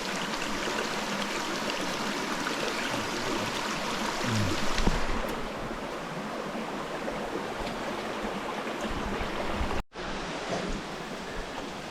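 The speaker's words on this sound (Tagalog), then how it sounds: "ito po pala inuman tubig oh" A stream of drinking water flows near a waterfall, making a steady, close rushing and trickling sound that continues alone with no voices.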